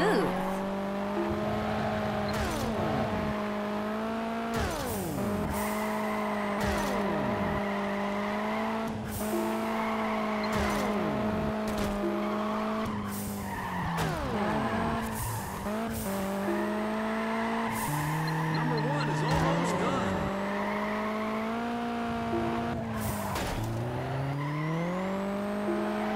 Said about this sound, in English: That's a great looking slide for car one. That's a 3-second drift.